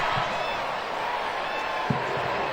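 A crowd roars steadily at a USA vs Canada international football friendly, a dense, constant wash of noise with a few brief thumps rising out of it over a couple of seconds.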